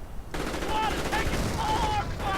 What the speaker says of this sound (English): Nothing like a nice ambush with a bundle grenade